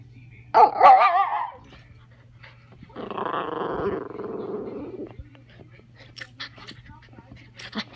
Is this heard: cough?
no